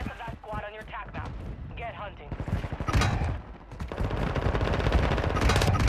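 Rapid gunfire in Call of Duty: Modern Warfare II multiplayer, with bursts of automatic shots crackling steadily under excited player voices talking over the action.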